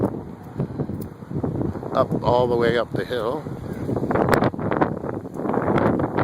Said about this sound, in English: Really windy here, but nice cool breeze.